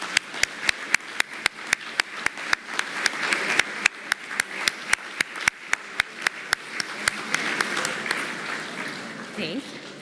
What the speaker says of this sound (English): let's give these special alumni a round of applause